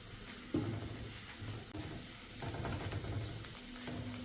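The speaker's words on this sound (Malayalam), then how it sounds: "ഇനി മീഡിയം ഫ്ലെയിമിൽ വെച്ചിട്ട് സവാള ഒന്ന് വഴറ്റിയെടുക്കുക" Onion sautés in a pan over a medium flame for an egg snack, a quiet, even sizzle with occasional soft knocks and shifts from stirring, and no voices.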